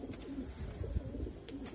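A pigeon coos softly at close range, giving a few low, throaty rolling calls against quiet background noise.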